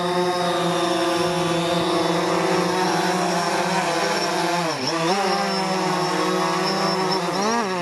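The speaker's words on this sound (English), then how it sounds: "I gotta land this thing. So I'm gonna bring her in." A DJI Phantom 4 Pro quadcopter fitted with Master Screw propellers hums with a steady, loud rotor whine as it comes in to land, the pitch dipping and recovering midway, close by with no talking.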